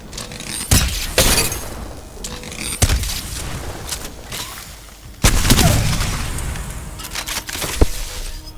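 Energy weapon fire in the video game Apex Legends, sharp cracking shots spaced out over several seconds, then a dense automatic burst, loud and close with no talking.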